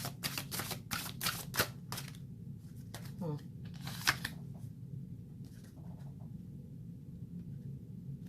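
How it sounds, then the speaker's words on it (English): Tarot cards are shuffled in a quick run of crisp, papery bursts, followed by a quieter pause and a few more scattered card sounds over low room rumble. "I will continue to shuffle"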